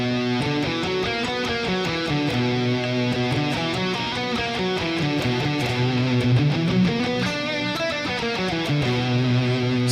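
Guitar running through a light, friendly-sounding scale in a masterclass setting, continuous melodic notes at steady volume with no talking.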